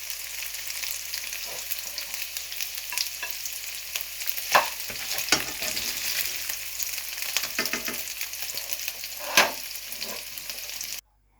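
Chicken pieces fry in a pan, giving a constant bright sizzle and crackle with occasional stirring scrapes and clatters, close and steady with no talking, cutting off abruptly at the end.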